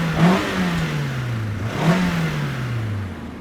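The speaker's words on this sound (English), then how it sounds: "All right, gonna do some engine revs." A 1994 Nissan Silvia S14 with its original SR four-cylinder engine, five-speed manual, revs twice, each blip sharply rising then winding slowly back down, loud and close with no talk.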